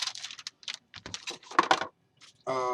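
Keys clack in quick, uneven bursts as someone types on the keyboard dock of an Asus TF701T tablet, ending in a short buzzing tone.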